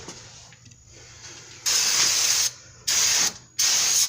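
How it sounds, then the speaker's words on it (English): Brake cleaner sprayed from an aerosol can onto a 2000 Dodge Durango front brake rotor: three loud, close hissing bursts, the first longest, separated by short quiet gaps. "We can spray this rotor off real quick."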